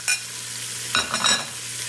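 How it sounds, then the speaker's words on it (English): Onions and their juices go back into a hot Instant Pot for spicy chicken and rice, making a short sizzling splash with a hiss that swells and settles over a steady low hum. "And put the onions back in and all the juices."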